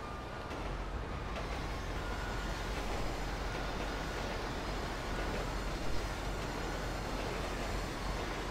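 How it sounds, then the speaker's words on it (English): A train rumbles past in Grand Theft Auto V, a steady, loud broadband roar of wheels and engine holding for the full length, with a slight swell near the end and no talk over it. "another train just went past"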